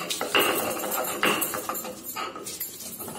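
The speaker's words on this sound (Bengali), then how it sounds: "যেগুলো ভাজলাম সেগুলোকে বেটে দিচ্ছি" Fried raw banana and other ingredients are ground into a mash by hand, with uneven knocks and scraping strokes close by and a pause between bursts.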